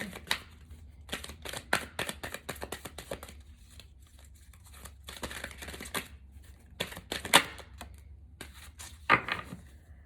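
A deck of oracle cards is shuffled by hand in a run of quick riffling and flicking bursts, close and fairly quiet, with short pauses between.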